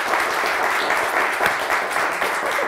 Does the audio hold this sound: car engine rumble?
no